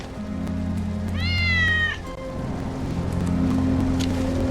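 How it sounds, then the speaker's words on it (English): A cat in Final Fantasy VII Remake gives one clear, fairly close meow with a rising-then-falling pitch, set against a constant rumbling background hum. "That's Wedge's cat."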